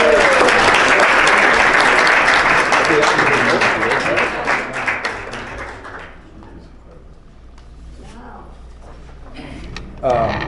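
Members at a lunch meeting applaud a long-standing partner organization, a loud burst of close clapping for about six seconds that dies away into quieter room noise and talk.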